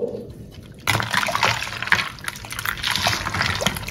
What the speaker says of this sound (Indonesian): Tambahkan juga 500 ml air galon.